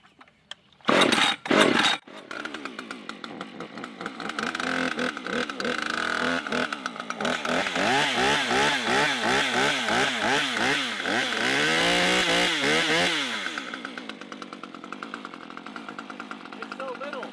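A Husqvarna Husky Pro arborist gas chainsaw gives a couple of sharp pull-start bursts, then settles into a loud, close, buzzing run. The engine rises and falls in steady revving pulses before cutting off near the end.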